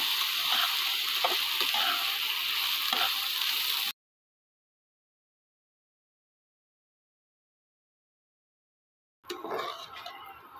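Gobindobhog rice and lentils sizzle and hiss in a pan for bhuna khichuri, a steady frying crackle that cuts out to silence for several seconds and then resumes.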